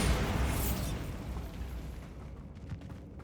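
A Bombarda blast spell detonates in Hogwarts Legacy, a loud broadband boom at the start that rumbles and slowly decays over about three seconds, heard alone without voices.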